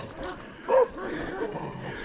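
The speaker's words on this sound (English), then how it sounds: "He's pretty friendly, but he's got one mean dog." A mean dog barks once, close and fairly loud, with a short sharp burst amid steady background voices.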